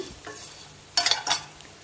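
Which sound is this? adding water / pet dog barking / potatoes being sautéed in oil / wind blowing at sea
potatoes being sautéed in oil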